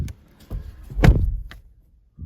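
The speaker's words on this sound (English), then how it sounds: "Let's close the doors." Several dull thuds of a 2021 Citroen C3 Aircross's doors closing, one louder slam in the middle, with a softer thump just before and after.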